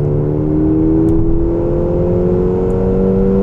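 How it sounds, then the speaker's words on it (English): A 2010 Volkswagen GTI Mk6 engine drones through its sound pipe into the cabin, a loud steady low hum with gently rising tones, heard continuously and without talk. "it's real engine sounds being pumped in, not through speakers or anything like that"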